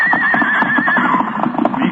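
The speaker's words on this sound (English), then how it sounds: "Him plenty strong, plenty good horse." A strong horse in a radio drama whinnies loudly and close, a long rising-and-falling neigh over a rhythm of hoof clip-clops, with no voices.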